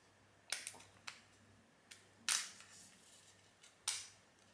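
Sharp clicks from the click system of a Kiepe Diavel shavette razor, about half a dozen crisp snaps at uneven intervals, close and quiet against near silence.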